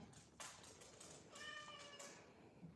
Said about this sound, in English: You meowed at me at the same time.